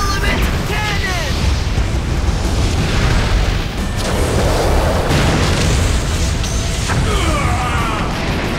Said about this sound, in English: I think this'll work, Dan. Okay. Element Cannon!